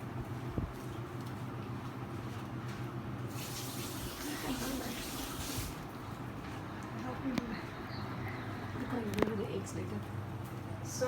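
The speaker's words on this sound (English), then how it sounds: "Let me just go away and wash my hands a bit and come back." A kitchen tap runs while hands are washed under it, a soft steady stream of water with occasional splashes and clinks, heard at a moderate distance with low background noise.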